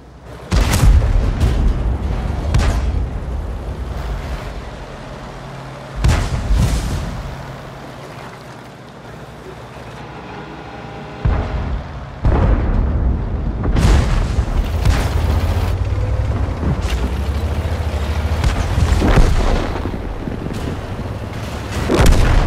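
Tank cannon shots and explosions from a World of Tanks battle with a Pz.IV S tank: loud repeated booms at irregular intervals over a constant rumbling engine and battle din.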